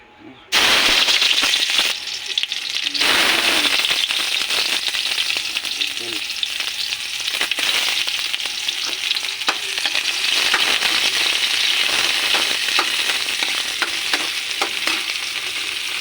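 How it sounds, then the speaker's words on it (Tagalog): Marinated native chicken sautéing in a pan for spicy adobo, a loud continuous sizzle with crackling pops and occasional stirring scrapes, steady throughout after a brief quiet start. "Gigisa na natin yan mga idol oh."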